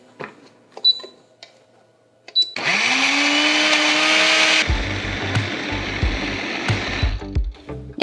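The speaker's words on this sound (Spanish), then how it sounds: "lo vamos a tapar y a molerlo hasta hacer un puré" A blender purees mango habanero salsa: a few quiet clicks, then the motor whirs up loudly and steadily before the tone drops into a rougher, churning grind as the chunks break down, ending with a rattle.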